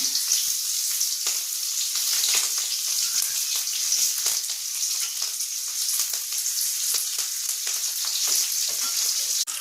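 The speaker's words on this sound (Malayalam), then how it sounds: "ഇത്രയും ഇഞ്ചി നീളത്തിൽ കട്ട് ചെയ്തെടുത്തത് ഇനി അതിൻ്റെ കൂടെ കുറച്ച് കറിവേപ്പിലയും കൂടി ഇട്ട് കൊടുക്കാം" Strips of ginger and curry leaves fry in hot oil, giving a steady, loud, crackling sizzle that runs unbroken throughout with frequent sharp pops.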